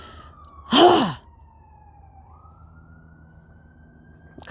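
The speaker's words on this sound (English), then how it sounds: "sirens going like crazy" A faint, distant emergency siren wails slowly, its pitch sliding down and then climbing again, while someone lets out a heavy sigh early on.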